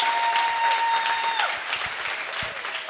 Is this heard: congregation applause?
yes